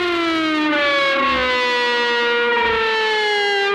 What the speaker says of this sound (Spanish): al tocar la máquina del miedo se pretende producir sonidos perturbadores